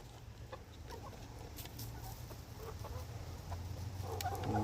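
Young chickens cluck softly and intermittently as they move into a coop, with light rustling and a steady low background hum growing slightly louder.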